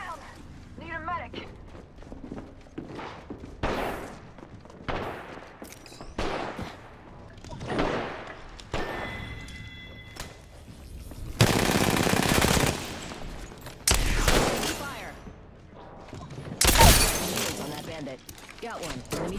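Bursts of rapid automatic gunfire and sharp shots from an Apex Legends firefight, loud and close, coming in repeated volleys with short gaps, the heaviest bursts late in the stretch, with occasional game voice callouts between them.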